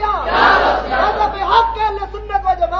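A crowd at a religious gathering shouts slogans together, a loud swelling roar of many voices that breaks into scattered chatter and chuckles.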